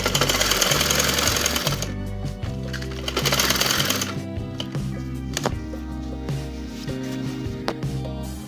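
A sewing machine runs in loud, rapid bursts while stitching a round neckline on a garment, its motor whirring under a fast mechanical chatter, starting and stopping several times.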